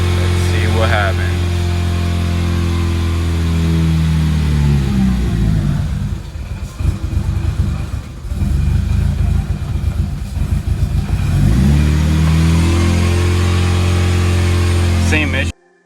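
A Mitsubishi Lancer Evo 8/9 engine cranks over without catching after a fuel pump install, giving a loud, steady mechanical churn for about sixteen seconds that dips and wavers midway.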